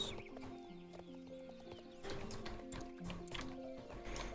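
Paso Fino horse hooves clip-clopping in Star Stable Online, a steady run of close hoofbeats over a continuous game music bed, with faint farm-animal and whinny sounds mixed in.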